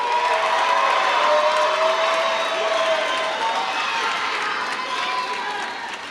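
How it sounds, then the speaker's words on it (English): Loud, sustained applause and crowd noise at a high school graduation ceremony as students who passed English and algebra testing are recognized, with voices mixed into the clapping throughout. "Please give them a round of applause."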